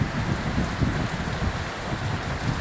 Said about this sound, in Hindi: देखो काफ़ी तगड़ा भाई साहब बारिश हो रही है, ये देखो।